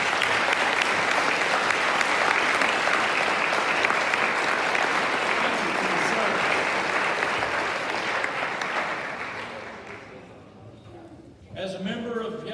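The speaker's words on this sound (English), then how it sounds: "Let's give them a round of applause." A large school gym crowd applauds veterans at a Veterans Day ceremony, dense sustained clapping filling the room for about ten seconds before fading, then a voice begins speaking over the hall.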